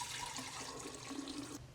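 Four cups of water poured for a homemade limoncello sangria, a steady close splashing pour that runs evenly for over a second before stopping abruptly with a brief knock.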